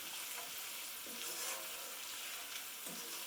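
Vegetables for a vegetarian puttanesca sauce cook gently in a pan with a steady soft sizzle, broken now and then by brief stirring scrapes; no one speaks.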